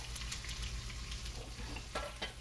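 Onion frying in a pan over medium heat gives a continuous close sizzle with a low background hum and a few brief crackles and stirs near the end.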